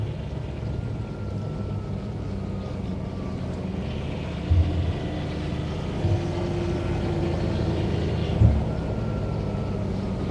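A John Deere Gator XUV 865M diesel utility vehicle with CVT drives over a rough, badly surfaced road, its engine droning steadily throughout with occasional bumps and knocks from the ride.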